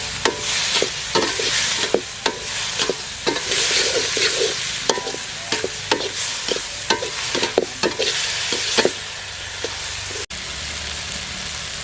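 Curry leaves fry in hot oil for a village-style quail pepper fry, giving a steady loud sizzle broken by repeated sharp scraping and stirring clicks.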